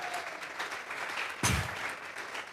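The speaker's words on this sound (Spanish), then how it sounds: "Dele fuerte esas palmas." A church congregation claps during a Spanish-language sermon, a steady dense patter throughout with a louder burst of hands midway, heard from within the room.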